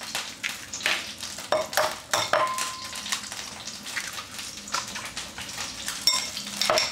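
Two eggs are beaten quickly in a bowl for a Chinese beef rice noodle stir-fry, a utensil clicking and scraping against the bowl in fast, uneven strokes, close and fairly quiet.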